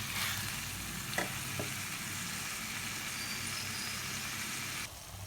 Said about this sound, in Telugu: సిమ్లో పెట్టుకొని ఫ్రై చేసుకోండి,